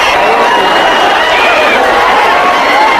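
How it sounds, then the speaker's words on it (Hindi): Huge street crowd of thousands throwing cow dung at each other during a packed religious gathering, a loud continuous din of mingled shouting and chatter. "हजारों लोग एक दूसरे पर गोबर फेंक रहे हैं।"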